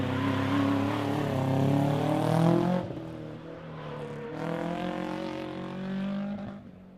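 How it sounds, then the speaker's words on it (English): A normally aspirated open four-wheel-drive regional rally car on the Ridge Motorsports Park super special stage, engine howling loud and near, dropping off on a shift, then revving hard again before fading away, no talk. "Probably another normally aspirated open four-wheel drive regional."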